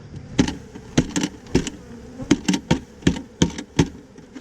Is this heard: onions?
no